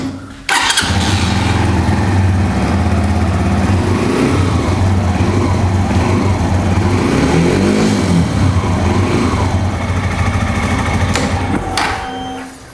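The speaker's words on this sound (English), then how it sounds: "But therefore, I have to start the bike." A Brixton motorcycle engine cranks and starts with a sharp catch, then settles into a steady loud idle that runs close up for about twelve seconds before cutting off.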